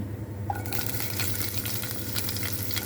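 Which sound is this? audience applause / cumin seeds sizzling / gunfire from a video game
cumin seeds sizzling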